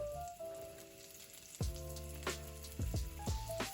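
Garlic crackles and sizzles steadily in oil in a pan, a soft hiss with scattered pops, under tonal background music.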